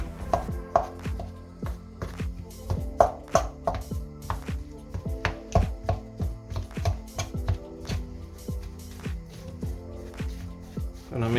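Plain curd cheese is broken up in a bowl for Transylvanian papanasi cheese donuts, a steady run of soft, quick knocks and crumbly taps over quiet background music.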